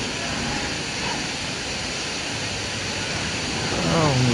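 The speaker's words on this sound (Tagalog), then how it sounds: "Grabe naman kalakas ng tubig dito sa Marikina River." Strong floodwater of the Marikina River rushes during a typhoon, where drifting barges collided at a bridge, making a loud steady broadband roar throughout, with faint voices mixed in.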